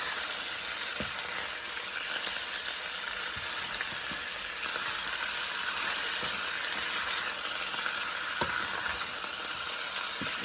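Spices roasting in a pan on low heat for chicken biryani give a steady, soft sizzle with occasional light stirring scrapes, close and continuous throughout.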